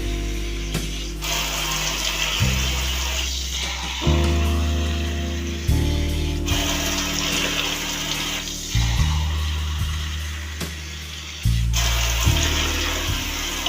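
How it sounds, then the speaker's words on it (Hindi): Water runs into a pressure cooker holding chickpeas, giving loud pouring and gushing in several bursts whose pitch shifts as the pot fills, with no talking over it. "अब इसके अंदर हम डालेंगे 3 गिलास पानी के"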